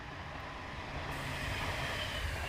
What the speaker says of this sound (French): Ah, on a un métro qui arrive.